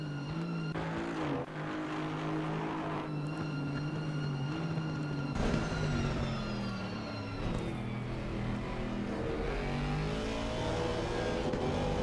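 A race car in Assetto Corsa Competizione at Monza revs loudly with a rising engine whine, climbing through the gears with shift breaks and a sweeping high pitch, and no voices over it.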